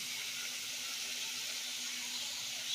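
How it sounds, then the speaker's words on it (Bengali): Onion, capsicum, green chilli, tomato and peanuts fry together in a pan, a steady close sizzling hiss running without a break. "সবগুলো কিন্তু আমি একসঙ্গে ভেজে নিচ্ছি"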